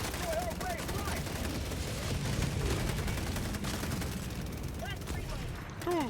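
Rapid turret gunfire rattles in the video game Helldivers 2, dense overlapping bursts with booms and distant shouted voices, loud and continuous.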